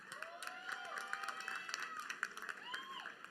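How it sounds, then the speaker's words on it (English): A crowd applauds for Dr. McGinty at an evening event, a faint, distant patter of clapping with scattered cheers and whistles throughout. "Round of applause for Dr. McGinty."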